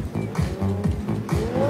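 Drift cars revving hard and sliding at an international motor show in Luxembourg, engines roaring with rising pitch and tire noise across the whole stretch, loud and close with a crowd-like background.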